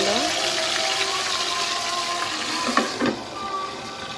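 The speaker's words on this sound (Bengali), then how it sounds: "এইরকম অবস্থায় আমি পটলগুলোকে ভেজে নেব।" Pointed gourd (potol) pieces fry in hot oil in a pan, a steady broadband sizzle running throughout, with a couple of brief louder crackles or utensil stirs near the end.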